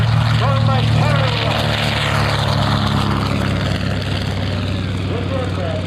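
A TBM Avenger, a General Motors-built WWII torpedo bomber propeller aircraft, flies at an air show with a steady droning engine hum, while an announcer talks over a public address system.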